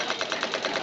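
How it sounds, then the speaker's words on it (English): A machine gun fires at enemy aircraft from a ship's bridge in a short, rapid, evenly spaced burst of loud reports lasting under a second. "I rushed to the bridge, manned the machine gun, and began firing at the enemy aircraft."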